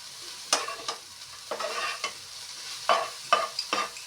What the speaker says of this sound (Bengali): তার জন্য দুটোটা দিয়েই নাড়িয়ে দিচ্ছি